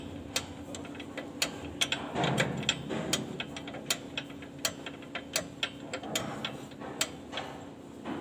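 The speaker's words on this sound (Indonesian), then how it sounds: "Ini kita kencangkan sampai roda tidak bisa berputar." A brake adjuster on a Colt diesel truck is turned with a tool, giving a run of sharp clicking ratchet ticks in an uneven rhythm, close and fairly quiet, with a brief scraping clatter partway through.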